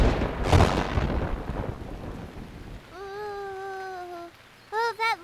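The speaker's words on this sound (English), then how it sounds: "Oh, that lightning came really close, didn't it, Moo Moo?" Cartoon thunder from a storm in a kids' animated show, a loud rolling rumble with rain hiss that fades over a few seconds, followed by sung or spoken tonal voice phrases.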